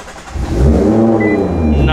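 Nissan GT-R engine cranking and catching, settling into a steady low rumble that builds in loudness over about two seconds, close by with no talk.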